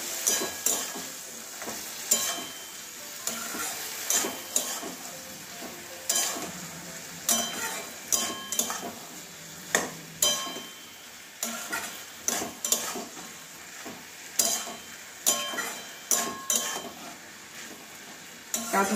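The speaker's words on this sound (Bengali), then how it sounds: "এবার আবারও নাড়িয়ে দেবো।" Bitter gourd curry with mustard paste being stirred in a pan, a steady sizzle under repeated scraping strokes of a spatula against the metal, close and fairly loud, with no talking.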